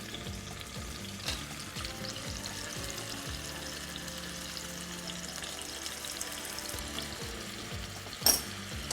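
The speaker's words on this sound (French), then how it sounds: "Voilà, des quartiers de tomates. Je vais les placer dans l'huile. je rajoute une gousse d'ail." Tomato quarters and a garlic clove fry in hot oil with a steady sizzle and scattered crackles, plus a sharp clatter near the end.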